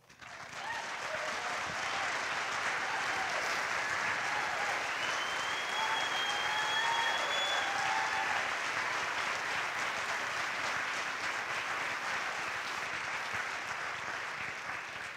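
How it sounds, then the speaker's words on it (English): An audience applauds steadily and loudly at a county government address, the dense clapping sustained for about fifteen seconds before tapering slightly at the end. "Thank you for the applause."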